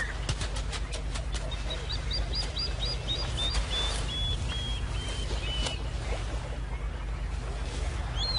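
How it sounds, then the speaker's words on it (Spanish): Plovers call in alarm at a monitor lizard, a string of sharp repeated high piping notes over steady low background rumble, fairly near and insistent. "Y los alborotados chorlitos le declaran la guerra inmediatamente."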